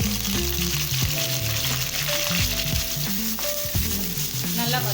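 Ginger garlic paste, green chilli and curry leaves frying in hot oil after mustard seeds pop, a steady loud sizzle with stirring clatter throughout, while music plays underneath.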